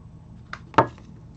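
Small shards of broken red wedding glass clink briefly in a pouch, two quick close glassy taps, the second louder, in a quiet room.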